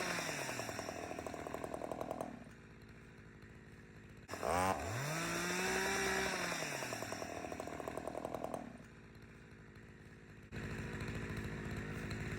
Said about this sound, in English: I'm demonstrating kickback, short bar, bent over.